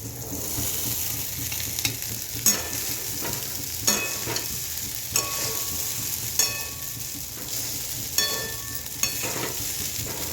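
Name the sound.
stirring sabudana khichdi mixture in a pan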